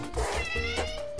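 A cat in the video game Catlateral Damage: Remeowstered gives a single drawn-out meow with a rising and falling pitch, close and clear over a low background.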